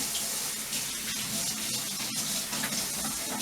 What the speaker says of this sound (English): I'll wash this old spoon.